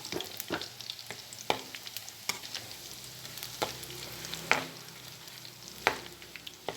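Boondi fries in hot oil with a continuous low sizzle, while a metal slotted ladle taps and scrapes the pan in irregular sharp knocks, close and fairly quiet.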